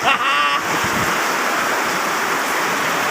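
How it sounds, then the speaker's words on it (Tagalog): Strong wind roars in a constant, loud rush, with a brief voice-like tone at the very start before the gusting noise takes over. "Ayan na, lakas ang hangin."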